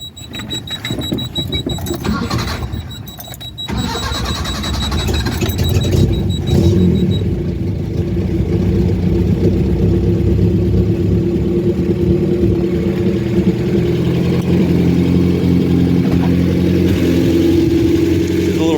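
Isuzu mini truck engine fitted with a Weber carburetor cranks and catches, then settles into a steady, close idle with a faint burble, running continuously to the end with no voices.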